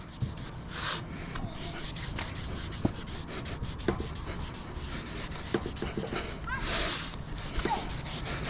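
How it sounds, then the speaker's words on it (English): A cloth rubs across a Toyota RAV4 front brake rotor after degreaser is sprayed on, making a faint, steady scrubbing swish with a few small knocks close by in a quiet garage. "I'm just gonna go ahead and wipe it off"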